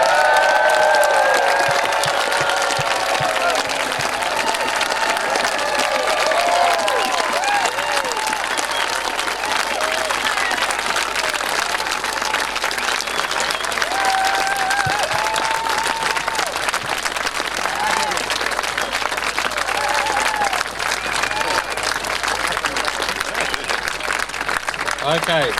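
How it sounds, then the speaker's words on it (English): A big audience at a coal seam gas blockade gathering in Bentley gives a long, sustained round of applause, dense continuous clapping at steady loud level with some crowd voices underneath throughout. "So a big round of applause for the Scarabalottis,"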